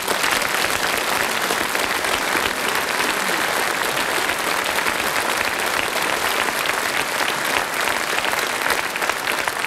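Sustained audience applause fills a gala hall at the Seepark-Saal in Arbon, dense and even from start to finish without a break.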